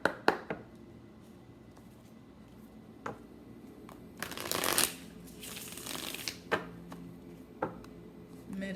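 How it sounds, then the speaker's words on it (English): Tarot cards are shuffled by hand, with sparse soft taps and riffles, then a louder flurry of rapid card riffling in the middle before quieter handling resumes, close and faint. "My cards won't shuffle."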